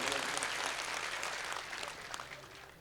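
An audience at a temple consecration festival applauds steadily and fairly loudly, a dense, continuous wash of clapping that fades slightly toward the end.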